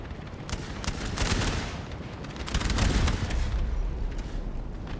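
A howitzer firing in a Napoleonic-era battle in Napoleon Total War, heard within a steady din of distant cannon booms and crackling musket volleys that swell and fade, with no talk.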